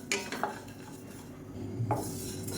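Dry cumin seeds being roasted and stirred in a pan, with a spoon scraping and clinking against the metal in a few quick strokes, close and fairly quiet.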